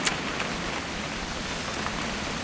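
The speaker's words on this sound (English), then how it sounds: "It's gonna rain the whole weekend, isn't it?" Steady, dense rain hisses evenly throughout a scene in the video game What Remains of Edith Finch, close and constant, with no voices.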